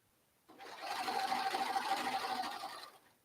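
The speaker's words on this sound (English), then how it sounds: "just serge down that edge" A serger runs steadily down a fabric edge while sewing a headband, its fast even whir holding for about two seconds at close range, with no talk.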